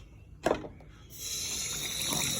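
Tap water runs steadily into a kitchen sink as a ladle is rinsed beneath it, with a brief clatter of utensil handling before a continuous, fairly close splashing stream.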